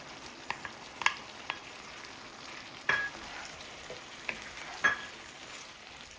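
Bele fish added to a pan with eggplant and potato, frying with a quiet sizzle and a few sharp stirring clicks and scrapes spaced through the clip.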